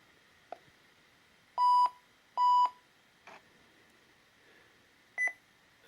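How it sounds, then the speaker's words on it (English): Several short electronic beeps ring out over a faint steady hum as an IBM 380Z computer starts up, a pair of longer tones in the middle flanked by brief clicks and a final chirp. "It should beep a couple of times."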